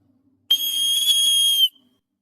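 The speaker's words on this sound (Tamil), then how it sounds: "இந்த விசில் அடித்து நீங்கள் எங்கே இருக்கீங்கன்னு சொல்லிட்டு உங்கள் ஃப்ரெண்டுக்கு நீங்கள் சிக்னல் கொடுக்கலாம்" A small survival whistle built into a paracord survival bracelet gives one loud, shrill blast lasting about a second, close up and alone in a quiet setting.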